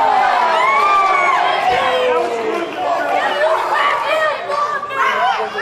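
A crowd at a live wrestling championship event cheers and shouts throughout, a loud, sustained roar with whoops and voices rising and falling, mixed with nearby chatter.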